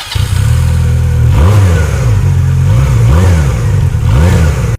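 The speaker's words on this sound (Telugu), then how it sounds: "దీంతో పాటు ఎస్ఆర్సీ 250cc బైక్ కూడా ఉంది. దీనికి 2 సిలిండర్స్ ఉంటాయంట" A two-cylinder SRC 250cc motorcycle engine revs loudly and close, its low steady idle rising and falling in several quick throttle blips over a sustained rumble.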